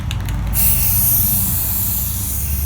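A spray paint nozzle sprays onto a mosaic backing board with a loud, close, continuous hiss that starts after a few short sputtering bursts and holds steady to the end.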